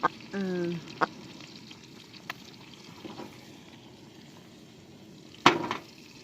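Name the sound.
garlic frying in coconut oil in a pan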